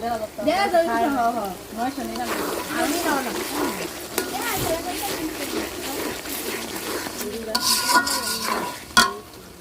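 Ginger-garlic paste and cumin paste fry in a pan, hissing and sizzling with scraping stirs beneath nearly constant talking, and a sharp clatter near the end.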